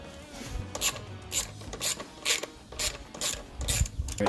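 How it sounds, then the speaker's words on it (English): Bolt for the battery strap being screwed in on a Harley-Davidson Sportster: a close series of about eight ratcheting, clicking bursts in fairly regular rhythm, each a short metallic rasp, with no talk. "go and screw in the bolt on the bottom"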